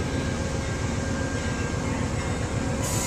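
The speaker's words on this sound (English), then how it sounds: "We're riding on the train." Passenger train rolling between Raleigh and Durham, heard from inside as a loud, steady broadband rumble and rush with no break.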